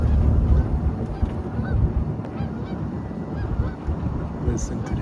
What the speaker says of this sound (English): Listen to the geese flying.